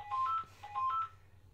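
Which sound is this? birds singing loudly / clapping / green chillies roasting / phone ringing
phone ringing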